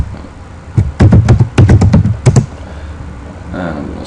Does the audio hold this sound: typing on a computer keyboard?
yes